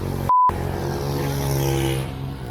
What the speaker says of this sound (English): Motorbikes here are loud and rowdy.